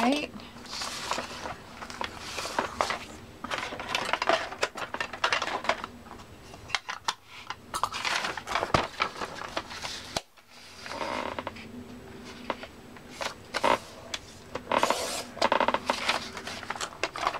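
Scissors snipping through paper for a junk journal, a series of short crisp cuts in irregular bursts with small pauses, close by and interleaved with a person talking.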